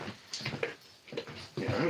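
A big pet dog whimpers and yips indoors in a few short, close bursts separated by brief pauses, the last one louder and more sustained.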